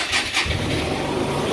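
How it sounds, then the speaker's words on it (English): A Hyosung Comet GT250 motorcycle cranks on the choke, boosted from a jump pack, and catches into a loud, close, rough engine that rumbles on steadily to the end. "Ignition on. Let's choke it just to get it running."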